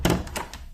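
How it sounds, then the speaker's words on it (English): Wooden door of an old hut in a camping area shut with a dull thunk and a few soft knocks and rattles after it, close by and quiet, with no talk. "shut the door, keep the critters out"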